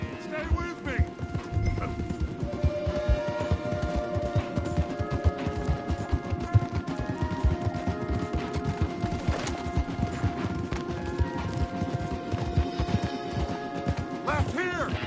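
Galloping horses in Red Dead Redemption 2 pound out a steady, dense clip-clop of hooves, loud and continuous, with music and occasional whinnies mixed in beneath.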